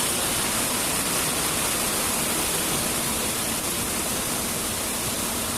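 Heavy monsoon rain pours down steadily as a dense, even wash of noise with no breaks, close and fairly loud throughout.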